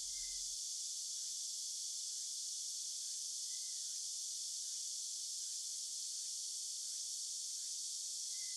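Cicadas drone in a dark, shaded forest on Jeju Island, a steady dense buzz held at one level the whole time, with faint intermittent chirps of other insects. No one speaks.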